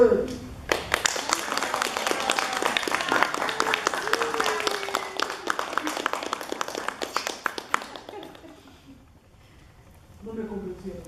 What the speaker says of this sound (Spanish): recién voy a entrar y me reciben con todos los aplausos